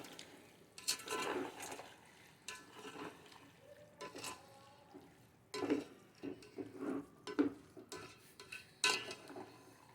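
A spoon scrapes and clinks as it stirs a carrot zarda mixture in a pot. The taps and scrapes come in irregular bursts, faint and close, with quiet pauses between them.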